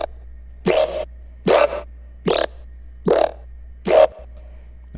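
Five short, gritty growl bass hits made in Serum, evenly spaced and punchy with rough, snarling texture, each cutting off sharply over a low steady hum.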